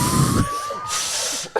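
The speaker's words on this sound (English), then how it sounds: "Literally holding a thing that makes a siren noise." A handheld toy siren gives a steady rising tone that runs for about a second and a half, loud and close, with a brief blowing burst at the start and noisy breath-like bursts around it.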